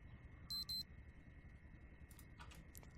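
An alarm in the Project Zomboid video game sounds faintly as a pair of quick electronic beeps over a steady tone, followed by a few more scattered beeps against quiet background hiss.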